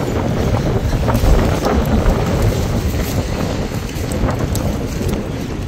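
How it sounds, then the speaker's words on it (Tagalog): Strong, gusty outdoor wind in Canada buffets the microphone with loud, low rumbling roars that rise and fall continuously. No voices are heard. "Grabe lakas ng hangin."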